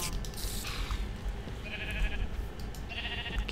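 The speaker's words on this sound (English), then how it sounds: "I'm gonna get so annoyed of the stupid sheep sounds." Sheep in a video game bleat in a few short, wavering calls at moderate distance, heard over a low background hum.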